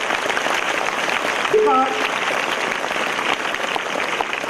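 Steady applause from a school literary club fest audience fills the whole stretch, with a brief voice cutting in partway through.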